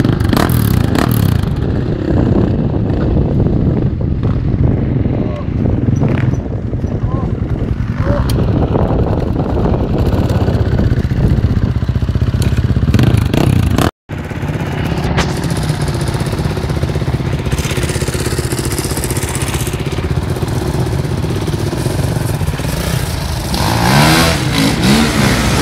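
An enduro motorcycle engine roars and revs continuously, rising and falling in pitch, with a brief cut midway and voices talking over it at an enduro event.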